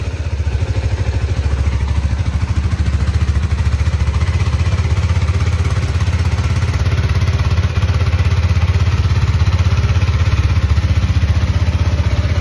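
A motorcycle engine idles steadily through a cold start warm-up after sitting nine days, a continuous low rumbling throb heard close and loud with no talking over it.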